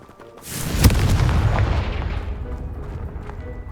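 A single loud, close blast from the Confringo fire spell in Hogwarts Legacy goes off with a sharp crack and then a deep rumble that fades over the next few seconds.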